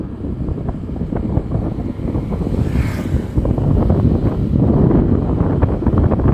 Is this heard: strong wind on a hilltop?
yes